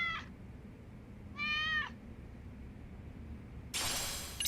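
In the video game Lost Judgment, a cat gives three separate meows spaced a second or more apart over a quiet background, each short and clear with no talking.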